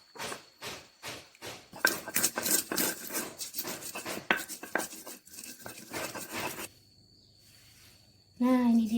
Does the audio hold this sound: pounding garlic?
yes